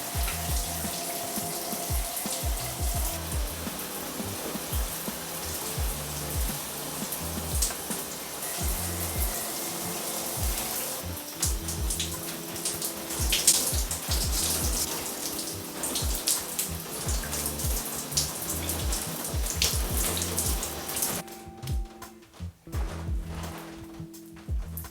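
Steady running water, like a tap or shower flowing, during hair washing with Dr. Bronner's soap. It keeps a constant splashing rush that shifts slightly as the stream is disturbed, under faint background music, and ends abruptly near the finish.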